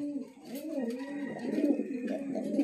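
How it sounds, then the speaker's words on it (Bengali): Black Lahori Shirazi pigeons, a male and female pair, coo in soft, repeated low warbling phrases, close and steady with no one talking. "কবুতর সুস্থ সবল, ঝরঝরা, ফরফরা, কোয়ালিটি সম্পূর্ণ কবুতর।"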